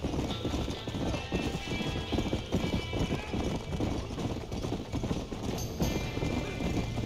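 Horses panic at a burning barn in the Red Dead Redemption video game, hooves clattering in a busy, continuous clip-clop with neighs mixed in, loud and close, and a voice briefly heard.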